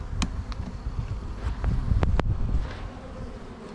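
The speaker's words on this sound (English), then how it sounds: "Looks like a pretty big swarm moved in this box." A pretty big honey bee swarm that has moved into a hive box, buzzing as a dense steady hum under wind noise, with a few brief sharp ticks close to the microphone.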